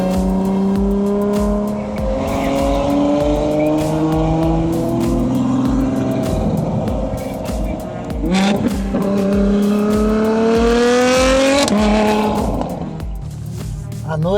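A Ferrari F12 Berlinetta V12 fitted with an FIA exhaust revs hard at night, engine note climbing repeatedly in strong sweeping surges with brief dips between pulls, loud and close, with a faint tire squeal.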